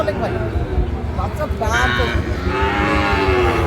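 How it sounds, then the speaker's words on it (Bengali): A Sahiwal cow moos loudly a couple of times, long low drawn-out calls, with people talking nearby at a cattle market. "বেশ সুন্দর গরুটি কালেকশন করছে"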